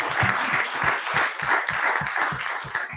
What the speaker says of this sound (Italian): E un applausino agli infermieri glielo farei